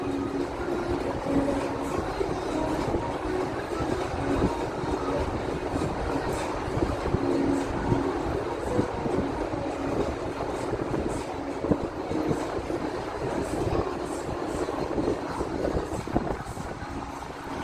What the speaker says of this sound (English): And there it goes. There goes the train.